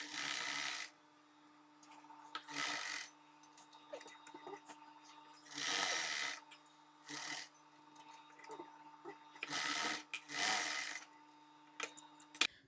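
A sewing machine stitches along the marked neckline of a short kurti, running in several bursts of about a second each. Quiet pauses separate the bursts, and a steady mechanical hum carries through.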